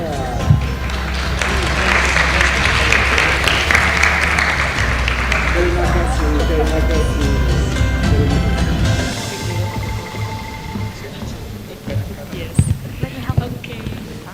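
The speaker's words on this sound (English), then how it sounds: "let's give them a round of applause for Pak Denis and Pak Stephen" An audience at a special guest lecture on trade wars gives a round of applause for two guests, with dense, loud clapping for several seconds under a low hum before it thins out into a few scattered claps.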